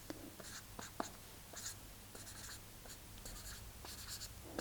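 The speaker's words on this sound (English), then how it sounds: "I could write it there and rub out this one" A pen or pencil writing on paper while filling in a crossword, faint close scratchy strokes coming in short bursts with brief pauses between them.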